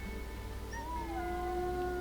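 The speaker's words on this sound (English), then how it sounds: "Howl again." A wolf in the WolfQuest game gives a long, rising then falling howl, a thin sustained tone over a low ambient hum, with a second faint voice briefly joining.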